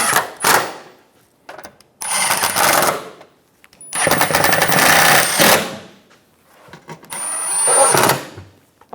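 Bolts holding a skid plate under a 2014-2018 Chevrolet Silverado 1500 are snugged down with a tool, heard as three loud, close bursts of rapid mechanical rattling a couple of seconds each, separated by short quiet gaps and brief knocks.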